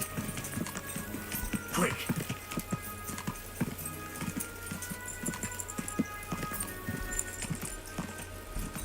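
Horse hooves clip-clop steadily through a video game scene, with a brief whinny, while a player talks excitedly over the top.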